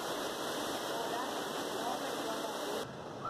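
A waterfall beside a narrow rock ledge on a theme park ride pours as a loud, steady broadband roar, constant throughout before dropping slightly near the end.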